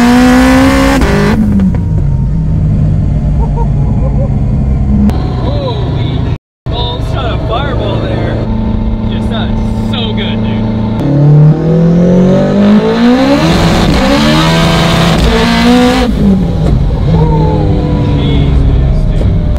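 A 1000 hp all-wheel-drive Honda RSX accelerates hard under full throttle, its engine screaming upward in pitch through several rapid sequential gear changes, with brief drops at each shift, loud and close from inside the car.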